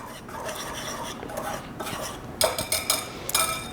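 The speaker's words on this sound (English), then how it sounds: "you're gonna wanna break it up a little bit because it's gonna be resistant, but just a quick whisk like this" A whisk scrapes and clicks briskly against a bowl while breaking up brown sugar, a soft rustling run followed by several sharper, rhythmic taps near the end.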